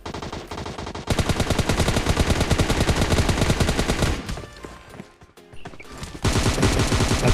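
Rapid bursts of gunfire in a video game battle, dense and loud through most of the stretch, briefly thinning near the end before another volley resumes.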